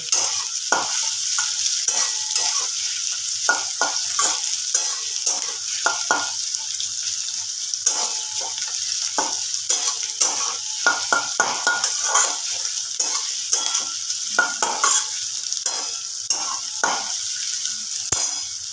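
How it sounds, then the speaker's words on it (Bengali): Chopped onion fries in a pan for a restaurant-style kadai chicken, a steady bright sizzle running throughout with frequent close stirring scrapes and clatters. "পেঁয়াজটা আমার ভাজা হয়ে গেছে"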